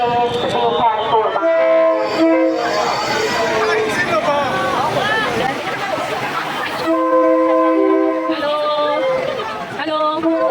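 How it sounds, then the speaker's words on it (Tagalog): A train pulls into Maeklong Railway Market station in Thailand, its horn sounding in long sustained blasts over a loud rumble, while a crowd chatters and a station announcement plays nearby. "ขณะนี้มีขบวนรถเข้าสู่สถานี"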